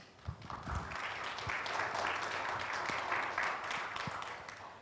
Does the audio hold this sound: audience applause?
yes